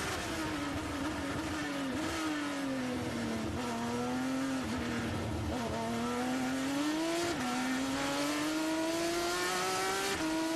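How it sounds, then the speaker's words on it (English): Onboard sound of a Formula 1 car on a racing circuit, its engine note loud and continuous, rising steadily in pitch through the gears, with brief dips at shifts and some tyre noise. "we're on board with Kvyat now."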